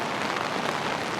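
Steady rain falls outdoors beside a river, making a dense, even hiss of drops on surfaces with no gaps, heard close and alone.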